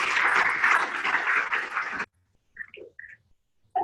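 An audience gives a dense, steady burst of applause for about two seconds, then it cuts off abruptly, leaving near silence broken by a few faint, brief sounds.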